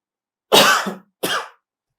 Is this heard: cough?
yes